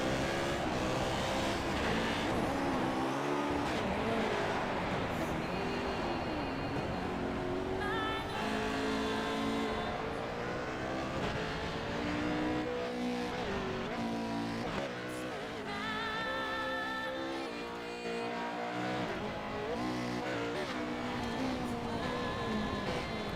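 Race car engines drone continuously on the short course at Crandon in iRacing, with the pitch rising and falling through throttle changes and several cars blending together, steady and fairly loud throughout.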